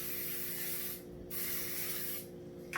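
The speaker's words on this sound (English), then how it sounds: "We're going to spray that thing with some olive oil, make sure it doesn't stick" Olive oil sprayed from a can onto a cooking pan in a home kitchen: two long, close hissing bursts separated by a brief pause, loud and alone, with no talking.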